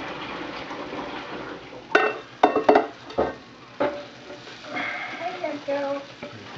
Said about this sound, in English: So now the carrots will go in.